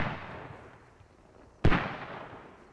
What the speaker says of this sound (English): Doobie still firing mortars